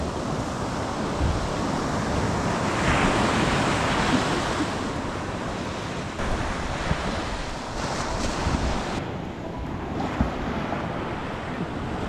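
Sea waves break continuously on Habalikhati beach in a loud, steady wash of surf mixed with wind buffeting the microphone, and no one speaks.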